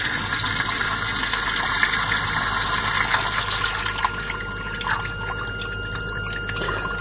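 Water pours through an inlet into the treatment basin of a HIFU machine, a continuous rushing gush with gurgling tones, loud and steady throughout, easing slightly toward the end.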